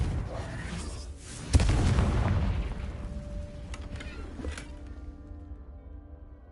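A Confringo fire spell in Hogwarts Legacy detonates with a single loud, deep boom that rumbles and decays over a couple of seconds, followed by faint clatter and ambient game sounds.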